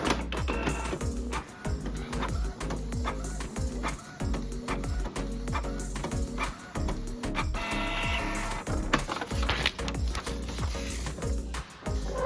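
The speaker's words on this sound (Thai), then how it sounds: "เครื่องก็จะเทสหัวพิมพ์ออกมาดูนะครับว่าออกครบไหมนะครับ" A Canon G2010 inkjet printer runs a nozzle check print, its carriage and feed mechanism whirring and clattering steadily with repeated mechanical ticks and motor buzz throughout, loud and close with no voices.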